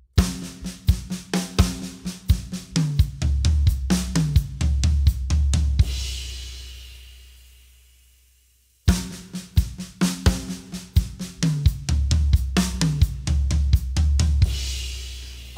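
A full four-beat triplet drum fill on a drum kit: rapid snare, tom and cymbal strokes rolling down to deep booming hits. It is heard twice, close and loud, with a ringing decay and a short pause between passes, and no voices.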